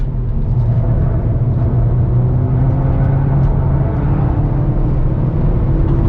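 A 2022 Hyundai Veloster N with an 8-speed dual-clutch transmission is driven hard on a race track. Its engine holds a loud, steady droning roar from the cabin, with a constant rumble and no speech.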